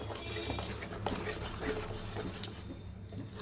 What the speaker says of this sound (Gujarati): અને એકદમ સરસ મિક્સ કરવાનું છે